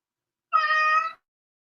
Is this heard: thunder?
no